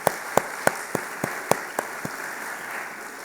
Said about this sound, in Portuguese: É uma salva de palmas para o Gustavo aí que passou no vestibular